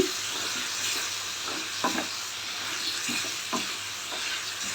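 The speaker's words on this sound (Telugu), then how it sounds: "మంచిగా కలుపుతూ వేపుకుంటూ తొందరగా వేగిపోతాయి కదా" Onions, tomato and green chillies with turmeric and salt sizzle loudly in a pan for palak paneer while being stirred, with a constant close crackle and several scraping knocks of the spoon.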